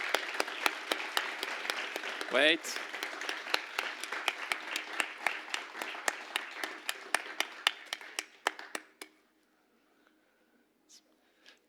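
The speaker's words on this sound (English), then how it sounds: "Give them a big round of applause." Applause for sixth-grade pupils at a school celebratory ceremony, a steady crowd clapping with distinct sharp claps that builds then thins out and stops around nine seconds, with a brief voice near the start and quiet room afterward.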